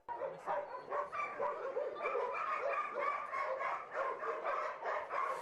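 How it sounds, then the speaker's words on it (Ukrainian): Many dogs at an animal shelter bark, yip and whimper at once in a continuous, overlapping chorus, fairly loud and steady throughout with no voices. "Під гавкіт чотирилапих"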